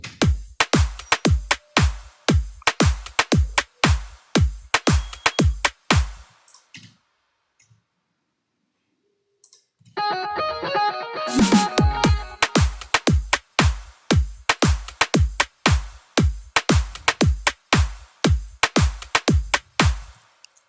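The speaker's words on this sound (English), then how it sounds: "So first I'll show you the percussion" Percussion track for a song from the film Pathaan, programmed in FL Studio: fast, regular drum hits in a tight pattern, a pause with a short fill, then the loud steady groove returns.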